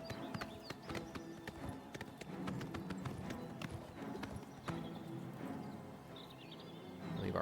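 Horse hooves clip-clop in the Elder Scrolls game Eras of Tamriel, a quick, regular clatter of distinct strikes moving over ground, with faint ambient game sounds and an occasional soft whinny.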